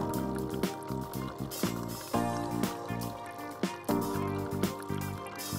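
A Nescafé Dolce Gusto machine brews espresso, its pump buzzing in repeated rhythmic pulses with gurgling liquid beneath, close and fairly loud.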